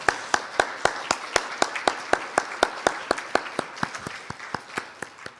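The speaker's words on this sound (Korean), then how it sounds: "우리 뜨거운 박수로 우리 한번 환영할까요?" A church congregation welcomes guests at a Sunday service with crisp, rhythmic clapping in unison, about four claps a second, starting strong and gradually fading.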